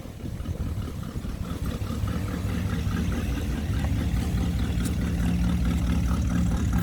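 A 1967 Chevrolet Impala's deep, rumbling engine idles steadily and close by, with a low throaty chug and some wind noise over it.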